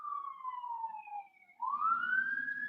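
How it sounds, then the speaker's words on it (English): Emergency sirens wail in the distance at a moderate level, a rising and falling tone sweeping down and then back up, with a low rumble of traffic entering underneath. "We're getting sirens now"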